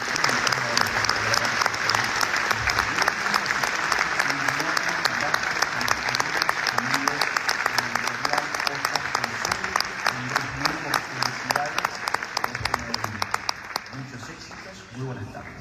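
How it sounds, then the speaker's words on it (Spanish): A crowd at an Argentine book presentation applauds heavily and continuously for over fifteen seconds, a thick, loud clapping that thins slightly at the very end. "espero que haya llegado un poquito el aplauso hasta allá"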